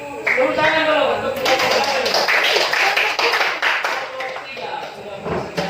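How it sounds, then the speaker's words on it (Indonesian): A classroom bursts into applause for a group that has just presented, loud and close, a dense patter of many hands clapping alongside lively student voices and chatter. "Ya, tepuk tangan dulu untuk"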